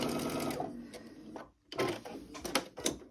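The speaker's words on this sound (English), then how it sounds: "push that right up in there and sew my quarter inch seam allowance" A sewing machine stitches a quarter-inch seam allowance in two close bursts of motor whir, with a brief pause between them.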